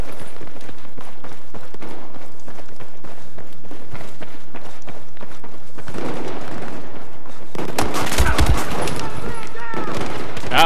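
Automatic weapon fire in the video game Battlefield 4, rapid bursts of shots over steady game noise, growing louder and denser toward the end with some voice under it.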